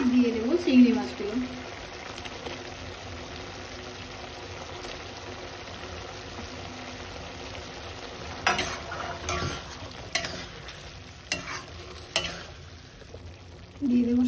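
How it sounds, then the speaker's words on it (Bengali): Prawns are added to boiling water in a pan while cooking: a low, steady simmer with soft stirring and scattered sharp clinks and scrapes of utensil against pan, fairly quiet throughout. "আমি কিছুটা জল দিয়ে দিয়েছি, জলটা ফুটছে। এবার এর মধ্যে আমি দিয়ে দেবো চিংড়ি মাছগুলো।"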